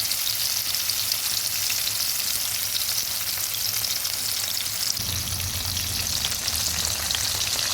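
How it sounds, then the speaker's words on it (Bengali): Hilsa fish pieces added one by one to hot oil and frying, producing a strong, even sizzle up close that swells slightly as more fish goes in. "তেলটা ভালোভাবে গরম হয়েছে এবার দিয়ে দিচ্ছি একটা একটা করে"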